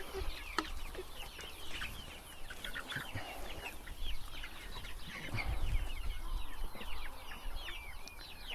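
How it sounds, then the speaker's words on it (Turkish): Young chicks let out into a garden cheep and peep in a busy, overlapping chorus, with occasional clucks and a low rustle of movement underneath, moderately close and fairly quiet overall. "Civcivlerimizi şöyle bırakalım."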